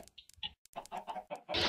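A video game chicken clucks in a quick run of short squawks, close and clear, with no talking.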